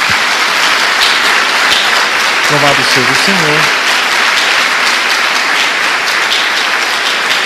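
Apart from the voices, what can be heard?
church congregation applauding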